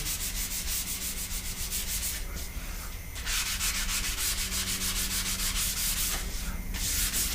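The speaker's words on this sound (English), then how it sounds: "Let me sand around it and I'll show you" Dry hand-sanding of a wooden skateboard deck: a steady, close, continuous rasp of abrasive paper over wood, with brief lighter pauses in the strokes, with no voices.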